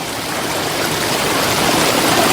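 River water flows in a steady, loud broadband rush, close and continuous with no talk over it.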